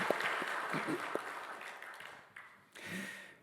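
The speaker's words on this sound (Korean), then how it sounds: "하나님께 영광의 박수를 한번 올려드리셨으면 좋겠습니다" A church congregation applauding during a Sunday service, a fairly soft wash of clapping with a few sharper claps that gradually dies down, then a brief swell of room noise.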